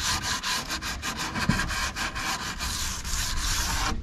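A Scotch-Brite pad scuffs a varnished wooden boat table in quick, rhythmic back-and-forth strokes, a close, dry rasping that continues steadily without any talk.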